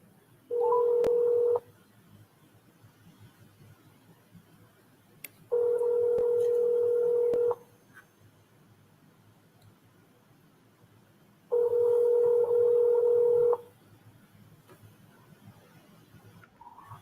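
Telephone line tones sound on a call: three loud, flat, steady beeps about two seconds long, separated by several seconds of quiet line hiss.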